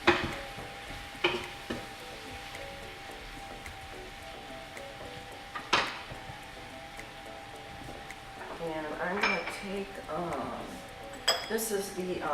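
A big spoon clinks sharply against a bowl holding lemon juice, several isolated taps early on, then a denser burst of clatter and stirring near the end, with faint talk underneath.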